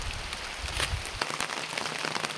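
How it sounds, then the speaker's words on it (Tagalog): Heavy rain pours down steadily near a hut in a tropical garden, a dense broadband hiss with scattered drops striking close by, loud and continuous with no one talking. "Pagkalakas ng ulan"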